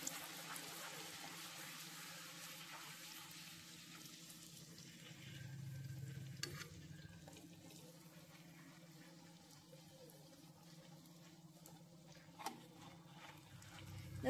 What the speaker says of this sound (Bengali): তেলটা গরম হয়ে গেছে, এবার লুচিগুলো দিয়ে দেবো। এবার ভেজে নেব